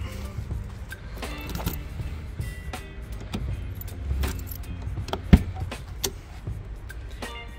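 Car keys jangle in scattered metallic clinks as a driver removes the key from a newly acquired car, with one sharp click partway through and a steady low hum of the vehicle underneath.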